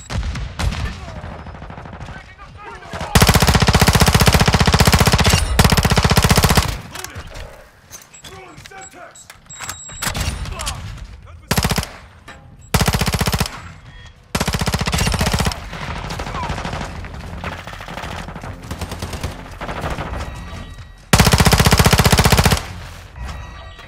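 Rapid automatic gunfire in Call of Duty Modern Warfare 2 multiplayer on the Shipment map: loud, dense bursts of shooting that cut in and out, with quieter stretches of mechanical clatter and voices shouting in between.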